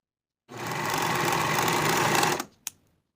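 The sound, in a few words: sewing machine sewing sleeve seam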